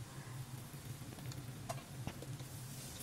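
Scrambled eggs tumbled into a pan of cooked cabbage, with steady sizzling and frying under scattered scraping taps of a utensil against the pan, no voices.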